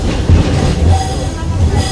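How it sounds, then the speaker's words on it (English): Riding the Walt Disney World Railroad at the Magic Kingdom, the train gives a steady close rumble with rhythmic low thumps of the wheels, and faint talk mixed in. "welcome aboard the Walt Disney World Railroad"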